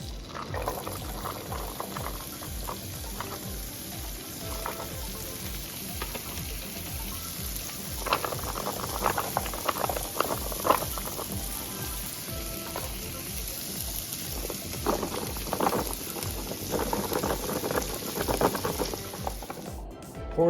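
Celery, carrots and onions sizzle and fry steadily in bacon grease and butter in a hot pan, a constant crackling hiss with occasional stirring scrapes, close up and without talk.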